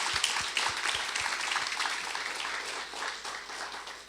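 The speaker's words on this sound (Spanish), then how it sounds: "denle un fuerte aplauso al Señor" A church congregation gives loud applause during a sermon by Pastor Juan Manuel Aguiar, a moderately faint, sustained round of many hands clapping with a few sharp individual claps near the start.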